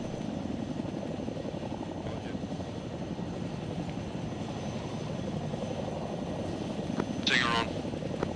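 A Chinook helicopter in a video game drones with a steady low rotor and engine rumble throughout, close and constant, with a brief higher burst of noise near the end.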